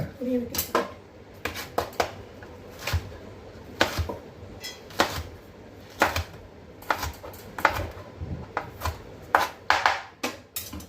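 A knife chops vegetables finely on a cutting board for a brinjal and capsicum curry, sharp irregular taps in quick clusters, close and fairly quiet, with brief pauses between runs of strokes.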